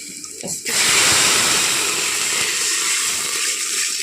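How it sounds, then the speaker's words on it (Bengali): Water poured into a cooking pot for khichuri, a brief quiet start then a loud, steady rushing splash that continues to the end, close by. "এখন জল দিয়ে দিচ্ছি।"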